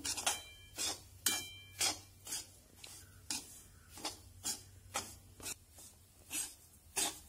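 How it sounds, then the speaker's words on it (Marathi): Semolina stirred and roasted in ghee in a pan over a low flame for coconut rava ladoo, a spoon scraping the pan bottom in about fourteen steady, evenly spaced strokes, close and fairly quiet. "तर रवा व्यवस्थित ढवळून घ्यायचा तळापासून."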